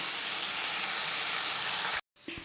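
Ridge gourd peels, tomatoes, garlic, coriander and green chilies frying in oil for a chutney, a loud dense sizzle that runs steadily, cuts out abruptly, then resumes more quietly with a clink.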